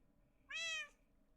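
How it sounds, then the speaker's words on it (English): A single short Minecraft cat meow, clear and tonal, rising then falling over about half a second against a quiet background with no talk. "Okay, that is a cat noise."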